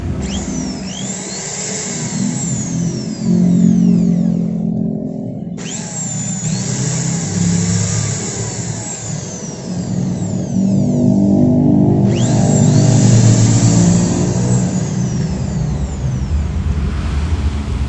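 A Maktec MT80B power drill with a wobbly chuck runs steadily for the whole stretch with a whining motor hum, close and loud, with no talking.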